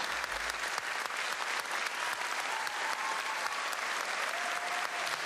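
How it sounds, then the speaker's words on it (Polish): Sustained applause from a concert audience at a festival concert with vocal soloists and orchestra, dense steady clapping filling the hall at moderate volume and carrying on without a break. "Wielkie brawa dla artystów, ale wielkie brawa również dla państwa"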